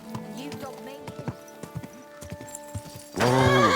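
Horse hooves clip-clop in uneven steps in Kingdom Come Deliverance 2, under a man's speech, before a loud whinny bursts out at the end.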